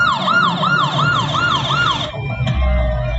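Ambulance siren wailing in a rising-falling loop while stuck in traffic in a movie scene, loud and close, cutting out near the end as a low rumble takes over.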